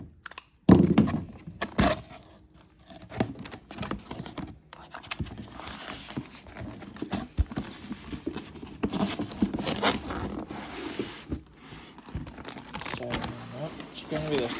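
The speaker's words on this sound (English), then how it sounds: "Bust that Traxxas tape." Packing tape on a boxed Traxxas TRX4M micro crawler is torn open with close crackling rips and crinkling cardboard, mixed with rustling handling and a person talking.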